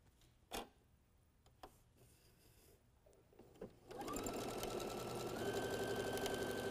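A sewing machine stitches white rectangles and print strips together for a lightweight quilt, starting near the middle and running steadily to the end, loud and close, with a few soft clicks and handling taps before it starts.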